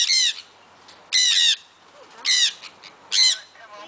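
Pet birds let out four harsh, squawking calls about a second apart, loud and close, with near silence between each burst.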